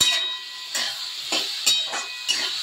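Fenugreek greens frying in ghee in a pan, a soft steady hiss and sizzle broken by repeated bursts of stirring that come roughly every half second, close and moderately loud.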